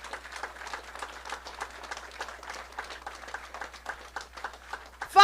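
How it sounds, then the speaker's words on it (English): A crowd at a Philadelphia mayoral event for a citywide cleaning and greening program gives a sustained round of applause, many hands clapping steadily at moderate loudness with no talk over it. "So give them all a huge round of applause."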